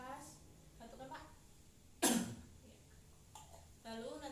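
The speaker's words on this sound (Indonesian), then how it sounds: "tarik nafas, hembuskan, tarik nafas, batukkan Pak" A male patient gives a single sharp cough on request during an effective-coughing technique exercise before sputum collection, preceded and followed by a voice giving instructions.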